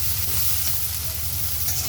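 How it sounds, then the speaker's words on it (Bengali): Onions frying in oil in a wok (kadai), a steady close sizzle and hiss running unbroken throughout, with a low hum beneath and no talk. "এটাকে এখন ভেজে নেব"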